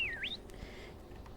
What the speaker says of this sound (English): you whistle for your horse